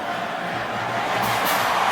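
Arkansas home football crowd on a cold night against Ole Miss, a steady roar of cheering that swells slightly louder toward the end.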